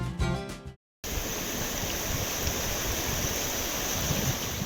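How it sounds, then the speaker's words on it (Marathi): The Pravara river at Sangamner runs in heavy flood over the submerged Ozar weir, a loud, steady rushing roar that starts after a brief cut at the opening and continues unbroken. "प्रवरा नदी दुथडी भरून वाहती आहे"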